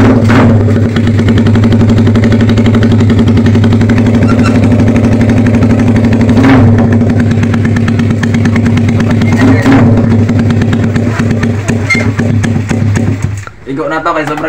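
A loud, steady idle from an engine fitted with a homemade 51mm open exhaust pipe: a harsh, buzzing drone held close and constant, broken by a couple of brief bumps before it cuts off near the end.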